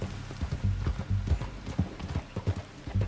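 Horse hooves clip-clopping at a gallop in Red Dead Redemption 2, a steady rapid rhythm of close, fairly loud thuds running throughout, with faint game ambience underneath.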